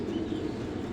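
Pigeons in a pigeon loft in Doha give a steady, low murmuring coo that fills the whole second without a break, soft and close with no talk over it.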